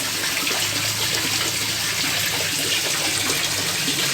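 Water from a pond stocked with pomfret fish drains away in a steady, loud, rushing gush that holds constant throughout, with no voices over it.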